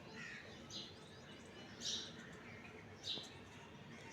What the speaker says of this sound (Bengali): দুষ্টু পাখি কই রে?